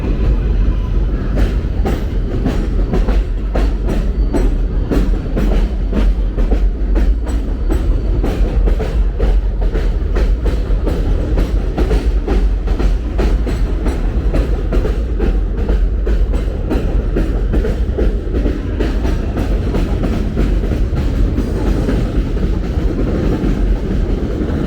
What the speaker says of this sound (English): We're going to have a lot of train traffic above us. The 7 trains run pretty frequently